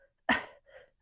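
A single deliberate demonstration cough, sharp and close, followed by a softer second exhalation burst, with near silence around it.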